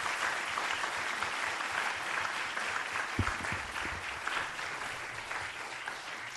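Applause for faculty members at a board of trustees meeting, a steady sustained wash of clapping from a room full of people lasting several seconds, even in level and moderately loud.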